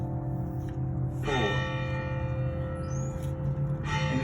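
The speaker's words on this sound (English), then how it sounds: "There's our pretty bells ringing, telling us what time it is." Church bells ring out the hour at 4 o'clock on Palm Sunday, several moderately distant strikes with long humming decay over steady background noise.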